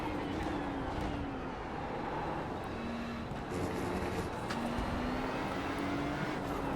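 Ferrari 296 Challenge race car in iRacing at Oulton Park, a continuous engine drone with tone rising and falling through gear changes, steady and moderately quiet without pauses.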